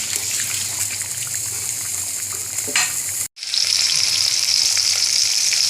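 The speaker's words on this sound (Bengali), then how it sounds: "বন্ধুরা মাছটা ভেজে নিচ্ছি" Bhetki fish frying in hot oil, a steady loud sizzle that cuts out briefly near the middle and then resumes just as strongly, with no voices.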